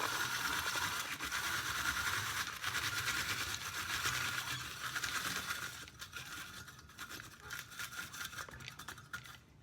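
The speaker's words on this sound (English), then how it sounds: "This is what works very best for grinding up the cabbage." Cabbage being ground for sauerkraut in a manual, non-electric grinder: a steady, loud scratchy crunching and rasping that holds nearly continuous, then turns choppier and more broken toward the end, with no talking.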